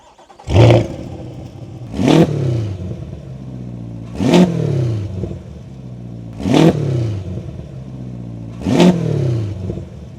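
A Chevrolet C8 Corvette's 495-horsepower LT2 V8 engine revs sharply five times in a row, each roar rising then settling back to a loud rumbling idle.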